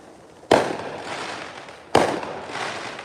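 Two sharp firework bursts about a second and a half apart, each booming then crackling off with a fading rumble, outdoors at moderate distance.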